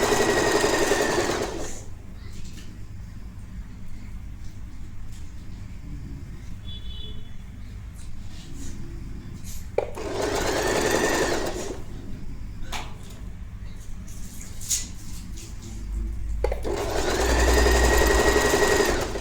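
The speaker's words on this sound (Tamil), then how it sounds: "இந்த ரஃபல் ஃபுல்லாக பாக்ஸ் மாதிரி ஸ்டிச் பண்ணி எடுத்துக்கோங்க" Sewing machine stitching a ruffle for a royal blue lehenga, running in three loud bursts of steady whirring separated by quieter pauses, close up with no talk.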